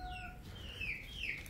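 Backyard chickens and a rooster give a short burst of clucking and squawking calls, close and fairly clear over a soft outdoor background.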